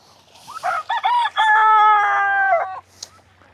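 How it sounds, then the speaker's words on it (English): A rooster crows loudly and close on a farm, a long drawn-out call preceded by a few short clucks, with quiet background afterward. "It's full of chickens."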